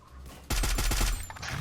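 A rapid burst of about half a dozen gunshots fired in the battle-royale video game Free Fire, loud and close, then a quieter trailing tail.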